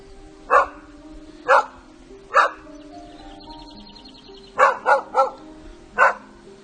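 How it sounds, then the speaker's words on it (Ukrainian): A dog barks repeatedly in short, spaced bursts, some close together, sounding fairly near among abandoned buildings about 10 km from the front line in Ukraine, over a faint background of tonal hum and distant bird-like chirps. "на даний час тут бігають тільки собаки"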